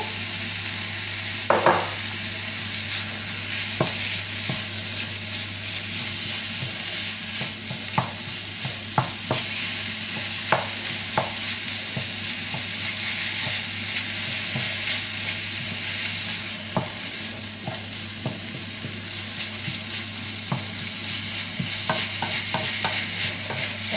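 Minced meat frying in a pan while a utensil breaks it apart: a steady, close hiss of sizzling with occasional knocks and scrapes scattered through, no voices.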